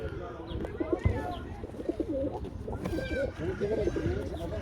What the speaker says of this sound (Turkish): Çok güzel kuşlar var burada da.